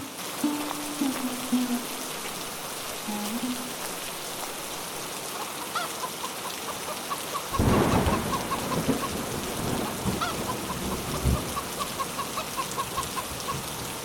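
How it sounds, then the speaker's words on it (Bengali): Steady rain falls throughout, and a rumble of thunder swells about halfway through with a couple of later knocks, while chickens cluck faintly in the background. "এই যা বৃষ্টি যে শুরু হয়ে গেল"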